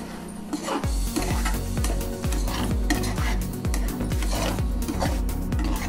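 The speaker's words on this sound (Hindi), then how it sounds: "आलू को मसाले के साथ अच्छे तरीके से मिक्स कर लें" Boiled potatoes are mixed with spices in a hot pan: a fast, even rhythm of spoon scrapes against the metal over a continuous loud sizzle.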